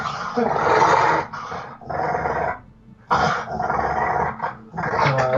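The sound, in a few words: dog growling and barking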